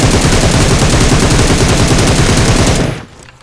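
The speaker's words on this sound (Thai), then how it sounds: "ทีนี้เดี๋ยวผมจะยิงเป็น M7 ให้ดูแล้วกัน ยิงเป็น M7 ครับ" Rapid, sustained automatic fire from an M7 rifle in PUBG Mobile, a loud continuous burst of closely spaced shots lasting nearly three seconds before stopping abruptly, with no talk over it.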